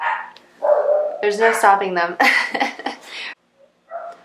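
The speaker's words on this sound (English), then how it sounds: "I apologize if you hear my dogs barking" Several dogs bark nearby in a home, sharp repeated barks and yips overlapping a woman's speech, then a short pause and a final bark.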